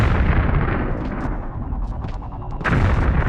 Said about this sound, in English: We're going to use our gun again.